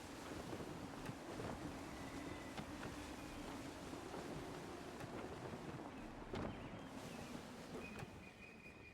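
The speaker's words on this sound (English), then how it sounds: "Wind looks to be shifting." Steady, rushing gusty wind at sea in Assassin's Creed III, with a constant roar of air and water and a few faint creaks and thumps underneath.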